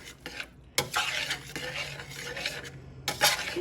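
A spoon scrapes and stirs through creamed cabbage with cream cheese in a cooking pot, several rough strokes over a faint sizzle, with sharper clanks against the pot's side.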